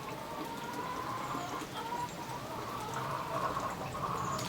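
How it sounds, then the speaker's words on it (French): Hens cluck and chatter in a busy farmyard, a dense layered ambience of many birds close and farther off, continuous with no talking. "c'est carrément des poules dans une basse-cour"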